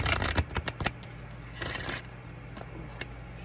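A deck of cards being shuffled at close range, a quick burst of riffling flutters and taps followed by softer handling clicks, quiet and without talk.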